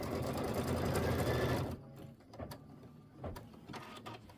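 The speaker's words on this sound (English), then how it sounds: "I'm going to go ahead and stitch" A quilting machine stitches fabric squares with a loud, dense, steady mechanical whir that stops abruptly after about a second and a half, followed by quieter clicks and small handling sounds.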